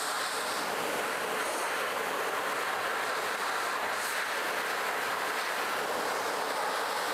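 A dog-grooming compressor dryer blowing hot air gives a loud, continuous, steady hiss of rushing air that lasts the whole time without pause.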